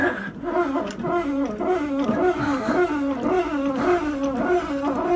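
A female dog growls, a low continuous rumbling growl with rising and falling pulses, close and fairly loud throughout, with no talking.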